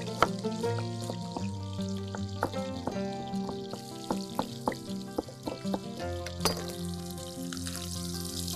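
Chopped garlic and ginger fry in hot oil with a steady close sizzle, broken by frequent small crackles and pops throughout.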